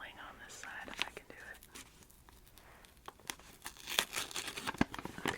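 Sticky tape peels off a brown paper package in scratchy, crackling pulls, with soft paper crinkles nearby and a close whispering voice.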